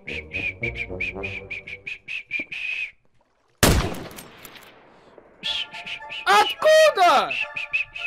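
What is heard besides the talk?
person whistling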